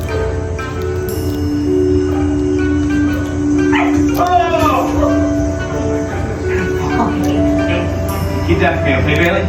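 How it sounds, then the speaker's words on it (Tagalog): Pet dogs at home let out short yips, whimpers and a few barks, mixed in under people talking nearby. "Yan yung paborito kong mga aso ko."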